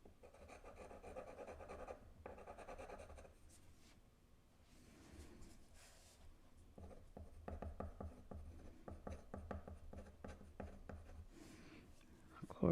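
A dip pen nib scratches and rasps across paper while writing in ink, a steady run of soft close strokes and short pauses, fairly quiet throughout.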